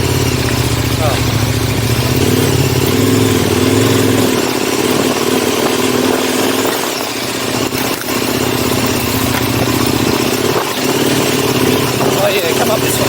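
An off-road vehicle engine revs and idles while climbing a slippery, fern-covered trail, loud and close under excited voices, with a brief dip in power midway.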